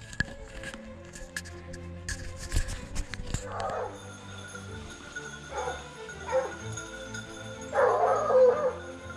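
Wild boar hunting dogs bark and yelp at a distance in the Savona countryside, scattered excited calls coming in bursts amid faint background sounds.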